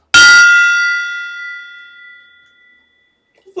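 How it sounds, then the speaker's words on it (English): A gong is struck once to celebrate a trading card hit during a 2020 Bowman Chrome card break, giving a loud bright clang that rings on and fades slowly over about two seconds. "That is going to be our first gong hit of the day."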